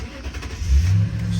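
A Toyota Tundra truck engine fires up after a no-crank, no-start fault, catching with a rising rev and then settling into a steady idle, close by and alone.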